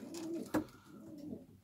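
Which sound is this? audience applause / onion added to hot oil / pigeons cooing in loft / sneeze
pigeons cooing in loft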